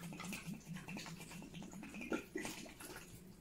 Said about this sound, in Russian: Нужно теплой водой залить субстрат.